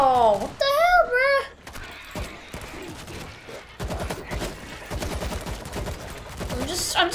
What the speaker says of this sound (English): I'm just randomly shooting.